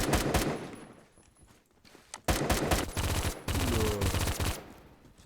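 Automatic gunfire from a precise, powerful weapon in the online shooter Phantom Forces, loud rapid bursts separated by short pauses, with a longer sustained burst near the end.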